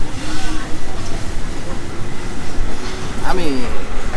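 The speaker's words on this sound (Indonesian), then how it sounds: "sambil ditemenin suara kereta lewat teman-teman di atas" Train rumbling past overhead on tracks above a small alley eatery, a loud continuous roar with a brief rising wheel squeal near the end.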